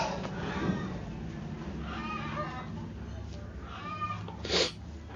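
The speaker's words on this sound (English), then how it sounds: "There are lots of hen around me. You might be listening." Hens clucking nearby: irregular clucks and squawks over a steady background hiss, with a louder squawk near the end.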